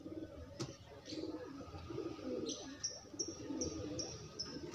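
A thin, sick pigeon with a cold breathes with a raspy, snoring rattle, mixed with soft cooing and repeated high faint chirps nearby, steady and close.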